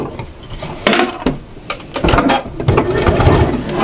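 On an apron with patch pockets, a sewing machine stitches straight across the straps with quick back stitches, giving close, irregular clattering bursts and clicks in short spurts.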